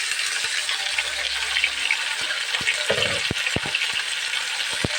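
Pork adobo fries in a pan with a constant loud sizzle while a utensil stirs, giving sharp metallic taps and scrapes against the pan at irregular moments.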